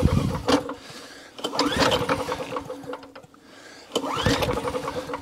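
An old-style Briggs & Stratton engine on a lawn mower with a suspected carburetor fault and a fuel leak is pulled over repeatedly, bursts of cranking and sputtering that fail to catch, separated by short pauses, close and fairly loud.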